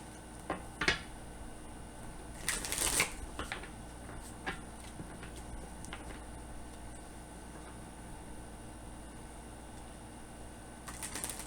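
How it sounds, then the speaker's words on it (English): A deck of tarot cards being shuffled by hand in a quiet room: a few soft, brief papery riffle bursts with faint ticking card taps in between, and no talking. "We'll get a few shuffles here and see what's going on."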